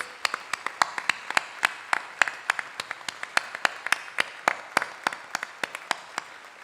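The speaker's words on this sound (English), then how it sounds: "let's give a big round of applause for all of our Above and Beyond the Call of Duty awardees" A small audience at a community awards celebration claps for the award recipients, sparse individual claps sounding out in a steady scattered rhythm, close and fairly clear, with no one talking over it.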